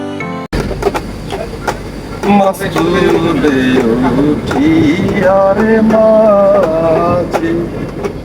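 Riding inside the Turna Express passenger train from Dhaka to Chittagong, a steady rumble of the moving carriage runs throughout beneath loud, lively voices talking and laughing nearby.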